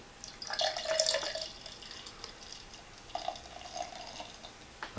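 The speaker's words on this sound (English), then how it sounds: "You're supposed to pour these sedimented beers in one long pour to leave it at the bottom" Sedimented ale poured in one long pour into a pint glass, giving soft liquid splashing and fizzing, brighter at first and then quieter trickles, with no talking.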